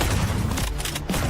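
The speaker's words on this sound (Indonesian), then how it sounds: "berikan dia beberapa tembakan di kaki terlebih dahulu" Gunfire in the video game Delta Force: a dense, loud burst of rapid shots filling the whole moment, dipping briefly before more firing, with no voice heard.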